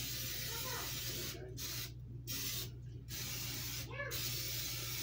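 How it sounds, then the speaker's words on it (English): Short bursts of cooking spray hiss into a hot waffle iron, several quick sprays in a row, close and fairly loud over a steady background hum. "So I'm gonna go ahead and I'm gonna give it a spray."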